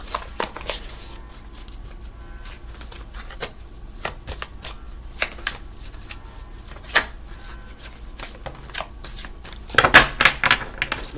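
A tarot card deck being shuffled by hand, a steady run of soft riffling and slapping card sounds close up, ending in a louder burst of shuffling, with no talking.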